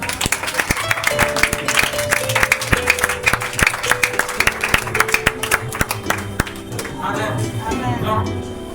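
A church congregation claps in a steady rhythmic beat to acclaim the Lord, loud and close, over sustained keyboard music and singing voices.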